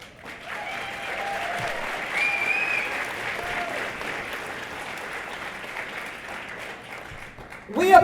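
Steady applause from a banquet crowd honoring elementary art educator Tracy Zerwas at a Women of Distinction event, continuous and moderately loud, with faint voices mixed in and a louder burst at the very end.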